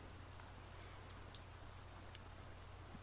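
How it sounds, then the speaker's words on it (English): Soft, steady rain patters evenly and faintly over a low background hum, with no voices. "Just listen to the rain."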